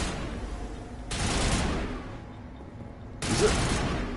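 Gunfire in Mass Effect Legendary Edition, two dense bursts of rapid shots separated by a short pause, fairly loud against a quiet background.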